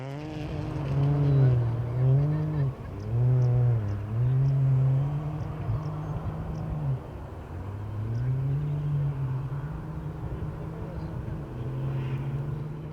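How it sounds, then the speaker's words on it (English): A VW Polo rally car leaves the stage start at the Algoa National Rally, its engine revving hard through repeated rising gear pulls. It fades into the distance, then another rise follows, all heard outdoors with no clear voices. "The third car off would be Benjamin Habich and Barry White in the VW Polo 250"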